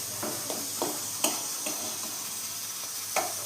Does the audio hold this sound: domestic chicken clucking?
no